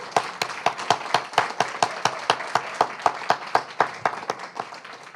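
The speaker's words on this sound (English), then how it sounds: "One more big round of applause." Rhythmic group clapping from an audience at a poetry book launch, sharp regular claps in a steady beat, close and clear with a little crowd murmur between them.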